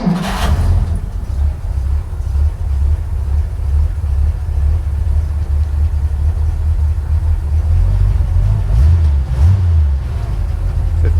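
A 1957 Power Wagon truck engine runs loud and steady throughout, a deep low rumble with a brief rise in revs at the start and small surges near the end as it drives.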